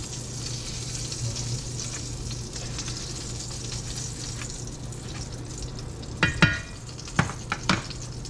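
Leftover strained bits of chicken-fried-steak breading sizzle steadily in hot frying grease in a pan over medium-high heat, a soft continuous hiss with a few sharper scraping clinks near the end.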